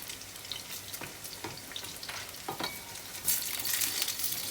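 Vegetarian fish sizzles and crackles in oil in a pan, with close, steady frying hiss and a few stirring or turning scrapes, growing louder near the end.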